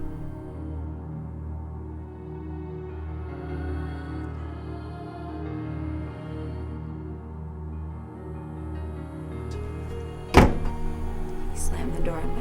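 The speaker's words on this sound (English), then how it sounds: "He slammed the door in my face." A single sharp door slam near the end, cutting through a low, steady hum, followed by a faint rattle.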